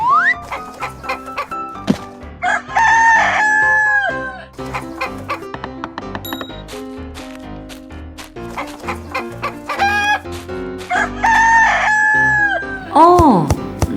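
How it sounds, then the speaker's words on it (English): Chickens on a farm cluck and crow repeatedly, with harmonic calls recurring throughout, loud and close, against a busy background. "Yeah, the chicken come back."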